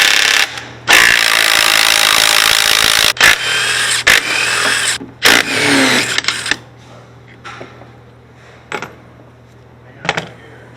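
Power tools and a ratchet work loose an engine mount on a 2019-2024 Kia Forte, with loud sustained whirring bursts followed by sharp metallic clicks and clanks nearby.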